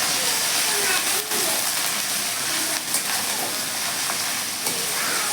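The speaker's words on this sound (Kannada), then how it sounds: "ಚೆನ್ನಾಗಿ ಹುರಿಬೇಕು ಅದು ಈರುಳ್ಳಿ." Onions frying hard in a pan, a steady dense sizzle and hiss running throughout with a few faint clinks, loud and close.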